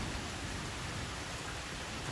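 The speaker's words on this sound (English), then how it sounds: "Field's getting that rain we needed." Steady rain falls on a freshly planted farm field, a constant dense hiss with no breaks, heard alone without any voices.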